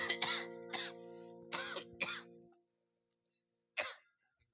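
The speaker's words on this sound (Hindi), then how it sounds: "सरपंच खांसी हो गए का महाराज?" Several harsh coughs and throat clearings come in quick succession, close and fairly loud, followed by a pause and one more throaty clearing near the end; a voice-like rasp runs through them.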